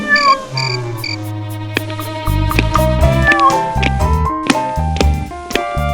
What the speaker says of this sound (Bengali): দেখুন দেখুন কি মিষ্টি করে আমাকে ডাকছে, ম্যাও ম্যাও।